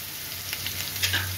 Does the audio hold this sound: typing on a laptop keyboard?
no